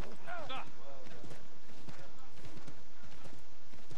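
Horse hooves clip-clop at a steady walking rhythm in Assassin's Creed III, moderately loud and close, with a brief voiced sound near the start and no talk.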